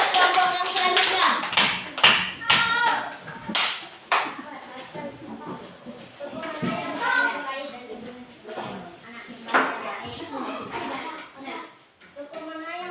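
Third-grade primary school children clapping their hands in a classroom, a burst of uneven group claps at first that thins into sporadic claps, with children's voices and chatter mixed throughout.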